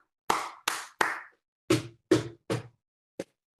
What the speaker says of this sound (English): can you please do the hooray clap now?